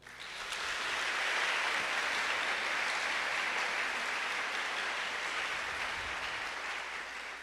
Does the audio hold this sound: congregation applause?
yes